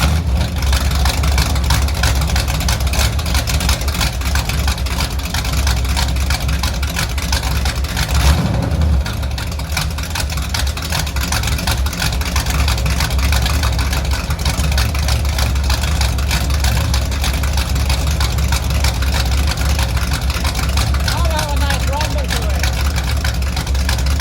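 A Chevelle engine with a freshly swapped cam idles with no mufflers fitted, a steady loud low rumble running throughout with a brief dip partway, and voices talking over it.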